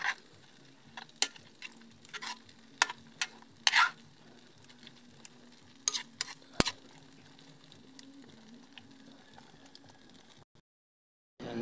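Pechay (bok choy) being sautéed in a pan without oil, a faint low sizzle broken by scattered scrapes and clinks of stirring, then a brief silence near the end.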